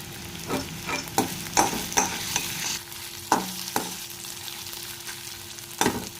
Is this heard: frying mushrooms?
yes